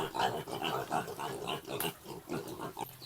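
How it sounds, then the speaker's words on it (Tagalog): Piglets in a bamboo-fenced piggery grunt and snuffle in a busy overlapping chorus close by, with a voice speaking over them. "Ito yung second batch ng mga biik natin."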